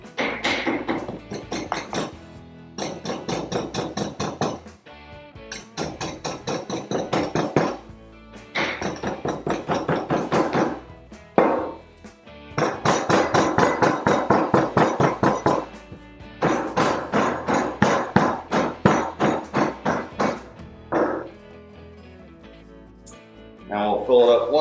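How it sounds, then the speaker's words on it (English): Foundry sand rammed into a casting mold for a lobster bottle opener, rapid rhythmic thumping in long bursts, loud and close, broken by short pauses. "we're going to key in our sides and then pack throughout the whole mold"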